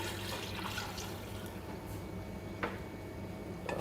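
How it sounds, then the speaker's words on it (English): A dessert base is poured into the top of a cooking machine, giving a steady liquid pouring wash with a couple of faint splashy drips, close and even throughout, no talking. "So I'm going to pour the base in the top of the machine."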